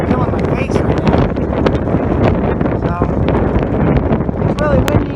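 Strong, gusty wind buffets the microphone outdoors at the USS Lexington in Corpus Christi during rain, a loud, constant roaring rush that persists throughout.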